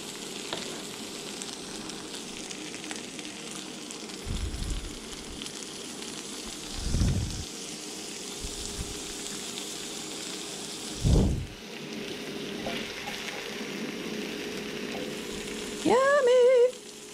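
Breakfast frying in butter in a hot pan, a steady close sizzle running throughout, with a few louder bursts of spatter and a short higher squeak near the end.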